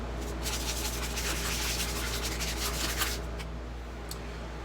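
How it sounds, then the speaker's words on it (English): Steady, continuous sanding of the wooden neck for a cigar box guitar, a close, even abrasive rubbing that keeps up without a break and eases slightly near the end. "Let's get to sanding."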